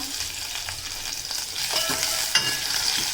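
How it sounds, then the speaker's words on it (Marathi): Garlic and green chilies frying in oil in a pan, a steady close sizzle with occasional stirring scrapes and a sharp clink near the end. "लालसर होईपर्यंत चांगलं लसूण आपल्याला शिजवून घ्यायचं आहे"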